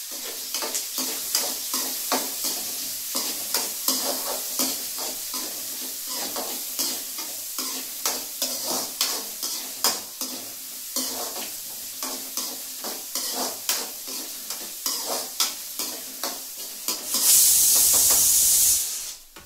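Garlic frying in a pan while being stirred: rhythmic scraping strokes over a constant sizzle, ending in a sudden, loud burst of steamy hiss.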